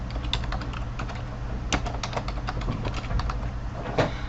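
Steady typing on a computer keyboard, a close run of light, irregular key clicks with a few firmer taps, continuing throughout with no speech.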